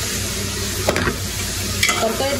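Vegetables tossed into spices already frying in a pan sizzle continuously, with a couple of scraping stirring strokes standing out over the hiss; no talking.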